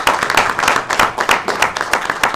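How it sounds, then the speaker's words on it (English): Round of applause from an audience at a football club press event announcing a new head coach, brisk and fairly close, with distinct individual claps in a steady dense patter. "A round of applause, ladies and gentlemen."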